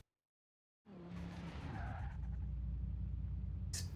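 Car in Forza Horizon 4 braking hard into the last corner and skidding toward the finish line, a loud sustained tire squeal over engine roar after a brief silence, with a sharp high hiss near the end.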